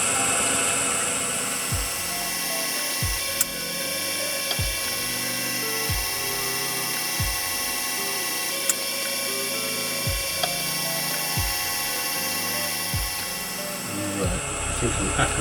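A gem faceting machine grinds a facet down toward the girdle, giving a steady whirring hum with a soft knock that repeats about every second and a half, close and continuous.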